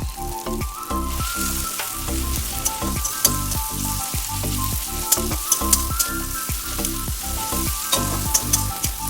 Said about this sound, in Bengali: এবারে এর মধ্যে দিয়ে দেব আদা বাটা।